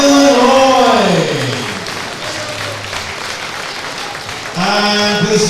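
Applause from the audience at a junior and youth boxing championship, a dense, loud wash of clapping that fades midway and swells again at the end, with an announcer's voice sounding over it.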